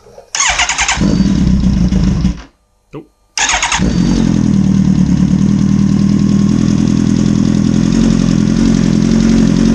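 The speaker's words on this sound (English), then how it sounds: "if I start the bike, which it's gonna be really loud for a second." A 2009 Kawasaki ZX-10R engine cranks and catches with a loud burst, cuts briefly, then fires again and settles into a steady, loud idle.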